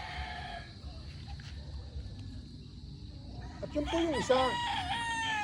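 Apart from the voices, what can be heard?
Boston Roundhead rooster crowing and clucking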